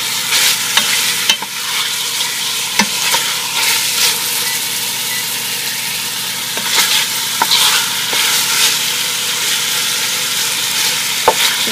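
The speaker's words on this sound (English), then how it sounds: "Now while our beef is browning, I've chopped up some of our vegetables." Beef browning in a pot of Cuban carne guisada, stirred with a wooden spoon: steady loud sizzling with scraping strokes and sharp clicks of the spoon against the pot, close up with no talk.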